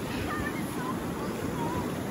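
Ocean waves at a beach in El Salvador at night, a continuous rushing wash of surf with some wind noise on the microphone, steady and moderately near throughout.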